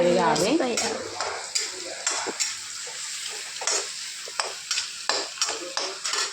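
Paneer and curry leaves frying in a pan, steady sizzle at first, then repeated sharp scrapes and knocks of a spoon stirring against the pan, close by.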